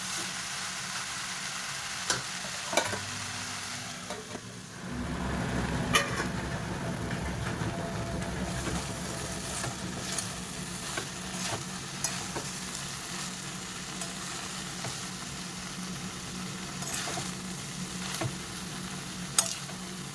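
Vegetables and soya chunks are stirred in a hot pan, a steady sizzle that swells after a few seconds, broken by periodic scrapes and clinks of a spatula against the pan over a low background hum.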